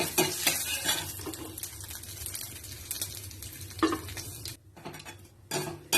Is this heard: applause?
no